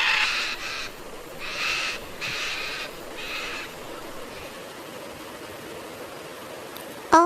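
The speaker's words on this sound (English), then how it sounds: "Owl, Ullu," An owl hoots in repeated bursts over a steady hiss of background noise, with several calls in the first few seconds before it falls quiet.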